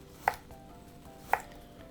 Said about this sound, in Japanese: 人参も同じようにみじん切りにしていきます